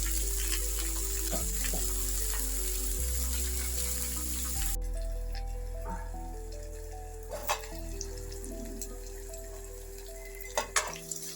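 Bottle gourd curry sizzles steadily in a pan on the stove, a constant close frying hiss with a few light clinks and taps of a utensil against the pan.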